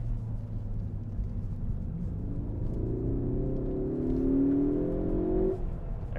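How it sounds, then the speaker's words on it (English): A 2016 Ford Focus ST engine revs while driving, its tone climbing steadily through the gears as it winds out, a moderate in-cabin drone and rising whine with no talking. "There's kind of winding it out a little bit and kind of hear that noise. Engine sounds pretty good in my opinion."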